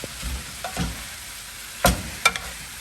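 500 grams of minced lamb for a shepherd's pie sizzles in a frying pan as it is broken up, with a steady hiss under a few sharp utensil scrapes and knocks against the pan.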